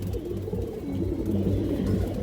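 High-flying Giribaz pigeons in a loft coo softly and continuously, a low, close, murmuring warble that goes on steadily with no talk.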